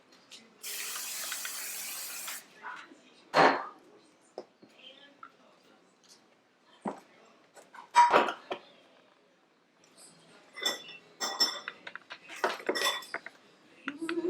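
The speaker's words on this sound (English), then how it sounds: "I'm just gonna spray this with some cooking spray so it won't stick." A hissing burst of cooking spray into a baking dish fills the opening seconds, followed by clinks and knocks of the dish and utensils.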